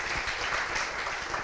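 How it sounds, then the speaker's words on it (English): Brief round of applause from an audience at the Akademy 2019 software conference, a dense, even clatter of many hands with no voices over it. "let's give them some small round of applause"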